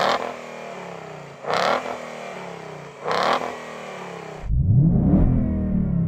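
A BMW 3.0 CSL engine revs hard in three loud, rising bursts that drop back to idle between them, then a deeper roaring surge takes over at the end, heard up close with no talking.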